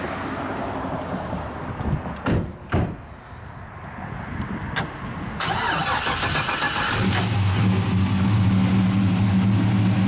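A 1966 Chevrolet Chevelle SS resto-mod with an LS engine, ceramic-coated long tube headers and full exhaust, heard near: a few clicks and a door-like thump, then the engine cranks, catches and settles into a loud, steady idle.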